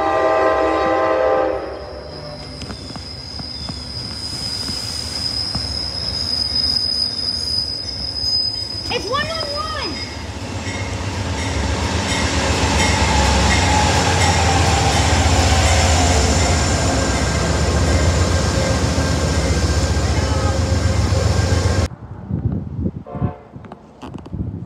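An Amtrak train passes close by, its wheels squealing loudly over the rails with a sustained horn blast partway through, the roar building and then cutting off near the end.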